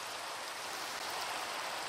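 Steady, dense rain hissing evenly in the video game Minecraft, a constant wash of fine patter with no gaps or voices.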